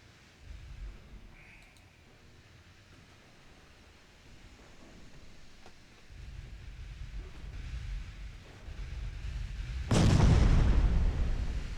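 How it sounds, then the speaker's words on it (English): Naval gunfire in Ultimate Admiral Dreadnoughts, with distant low rumbling booms building through the scene before a loud, close blast near the end, set against a steady background of noise with no talking. "There is the sheer amount of explosions which are just about to open up on this poor ship."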